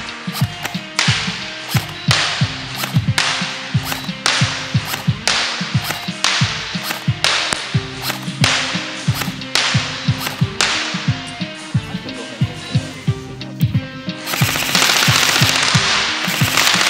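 A Classic Army M4 Magpul MOE airsoft rifle shoots 0.20 g BBs in a long series of sharp, evenly spaced semi-auto snaps, loud and close, ending in a brief hiss.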